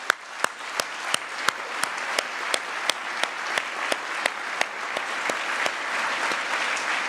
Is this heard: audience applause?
yes